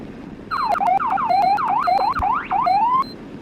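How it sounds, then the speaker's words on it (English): A loud electronic vehicle siren in the game Greenville cycles through rapid rising and falling whoops, close by, then cuts off abruptly. "Yeah, sirens are loud"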